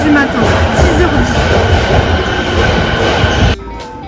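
A loud, steady rumble of a commuter train in Japan running close by early in the morning, with a dense rattling roar that cuts off abruptly near the end.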